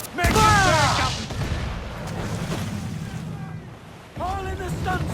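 Ship cannons booming in a naval battle in Assassin's Creed IV: Black Flag, heavy blasts at the start and again near the end, with shouted crew commands between them.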